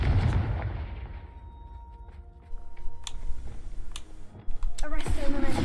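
Confringo fire spell cast in the video game Hogwarts Legacy, heard as a few sharp, bursting blasts spaced about a second apart over a low, fading rumble of game sound.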